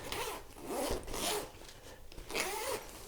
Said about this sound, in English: Let's have a little look at the zip on the side.